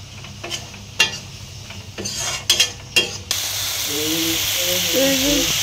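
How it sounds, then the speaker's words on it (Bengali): Dried fish with jackfruit seeds and taro stolons is stirred in a pan in a village kitchen, a few scraping strokes of the spatula, then a steady loud sizzle and hiss of frying, close by, while a voice speaks faintly underneath. "শুটকি ভালো করে কষাই নিচ্ছি।"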